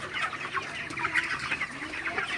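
Broiler chickens cluck and chatter continuously at close range inside a poultry shed with side curtains lowered against the cold, a busy overlapping flock murmur.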